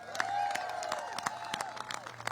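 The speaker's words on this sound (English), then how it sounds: "So give yourselves a big round of applause." An audience at a political rally gives a round of applause, scattered clapping with light cheering heard at a moderate distance.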